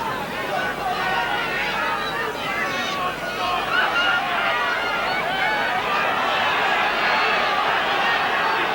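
A Widnes rugby league crowd at a 1983 cup match against Leeds makes a steady roar and murmur throughout, swelling slightly partway through, with a commentator talking over it.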